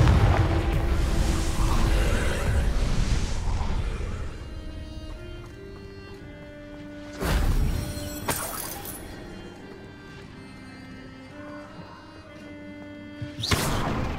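Confringo blasting spell bursts in Hogwarts Legacy: a rumbling boom at the start, two sudden blasts later with glassy ringing tones in between, and a final sharp explosion near the end.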